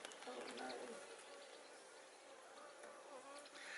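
Honeybees buzzing densely at a smallholding beehive being closed up for the night, a continuous close drone, with a voice faintly present underneath.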